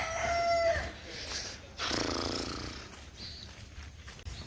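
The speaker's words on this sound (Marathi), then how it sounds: "इथे पक्ष्यांचा आवाज बिवाज एकदम" A rooster crows loudly nearby in the early morning, followed by scattered bird calls and chirps across a quiet outdoor background.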